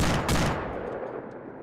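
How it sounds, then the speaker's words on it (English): Machine gun fire in the video game ArmA 2 arrives as a loud burst of sharp shots at the start, then a rumbling decay with faint distant cracks trailing off. "they've got machine guns firing at us from the city edge"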